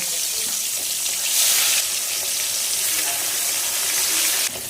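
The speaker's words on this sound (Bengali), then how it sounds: "বাদ বাকি ইলিশ মাছগুলো ভেজে নেব।" Hilsa fish pieces frying in hot oil in a home kitchen, a loud continuous hiss and crackle of sizzling that swells briefly and drops near the end, no voices.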